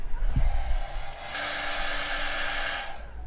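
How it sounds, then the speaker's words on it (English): A hair dryer, used to dry paint on a fishing lure, switches on and blows with a steady, loud whooshing roar for about a second and a half, then cuts off. "Alright, dryer again."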